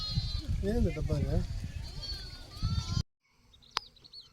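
Sheep bleating outdoors near cows at a village wedding gathering, wavering bleats mixed under nearby talk before the sound cuts out, leaving quiet with a few faint sounds.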